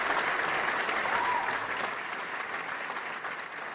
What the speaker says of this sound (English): Let me put my applause on.